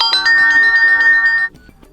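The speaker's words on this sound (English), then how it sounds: "Just to mute our device ringtone" An Honor Magic4 Lite phone plays a bright melodic ringtone loudly and close for about a second and a half, then cuts off abruptly, leaving faint background sound.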